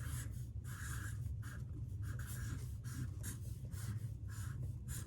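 Pen strokes scratch steadily across paper while writing out a word by hand, a close, continuous rubbing with short rhythmic bursts over a low steady hum.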